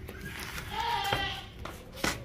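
A goat bleats with a wavering, drawn-out cry amid background chatter and nearby voices.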